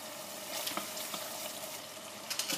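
Tomato, harissa and spices fry in a pan with a steady soft sizzle, a few brief stirring scrapes rising over it near the end, heard close and alone.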